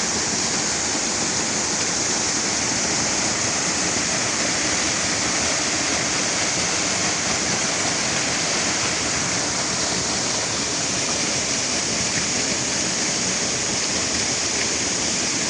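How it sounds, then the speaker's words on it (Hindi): The Samandar Katha waterfall in the Galyat hills roars steadily and loudly, a constant dense rush of falling water with no pauses. "ये पानी यहाँ से गिर रहा है।"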